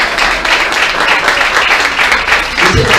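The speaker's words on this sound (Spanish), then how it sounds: "¿Cuántos le pueden dar un aplauso a Él?" A church congregation applauds steadily, dense clapping filling the room for the whole stretch.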